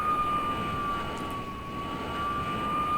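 A Hawker Sea Hawk jet engine starting up in a flight simulator game, a steady whining turbine tone over a broad, continuous roar, loud and alone.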